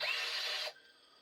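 A partially charged cordless drill bores into a rusted exhaust bolt on a 2001 Dodge Stratus SE 2.7 L, with cutting oil dripped on the bit; a loud, steady high whine runs for about two-thirds of a second, then cuts off sharply.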